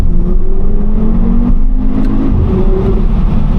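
A 2014 Audi RSQ3 with a 2.5-litre turbocharged five-cylinder engine rated at 310 hp pulls hard under acceleration, the engine note loud and close with its pitch climbing steadily through the rev range, and no talking over it.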